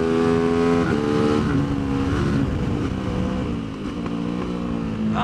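Tianda TDR300 race motorcycle engine revving hard on a track at Mission Raceway, a loud, continuous near roar with rising and falling pitch as the rider shifts through the gears, no talking.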